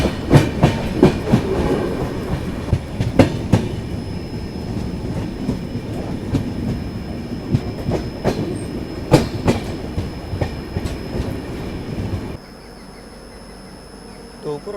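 A Duronto Express train on the Konkan Railway rolls through Tokur, with steady clickety-clack wheel rhythm and rumble heard from on board, loud and continuous until it drops away sharply near the end.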